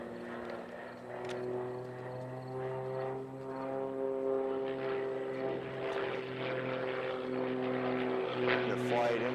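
A Pitts S-2B aerobatic biplane flies a competition sequence, its propeller engine giving a steady, fairly distant buzzing hum that rises and falls slightly, with faint talk and clatter in the background.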